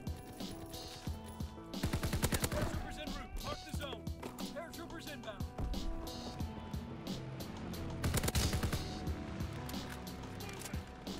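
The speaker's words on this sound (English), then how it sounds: "So someone forgot to tell me assault rifles can do this." Rapid bursts of assault rifle fire from Call of Duty WW2 rattle out in several loud volleys, with other game effects between them and someone talking over the action.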